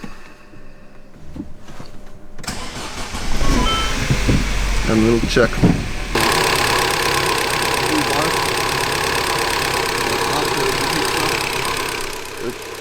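A Mini Cooper R56 with a no-oil-pressure fault starts after a quiet moment, revs briefly, then settles into a steady, loud idle. Someone speaks briefly near the start.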